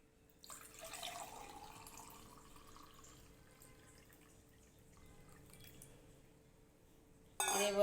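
Filtered amla, beetroot and carrot juice poured into a cup, a faint, thin trickle and drip for a few seconds in a quiet room, followed by a brief louder clink.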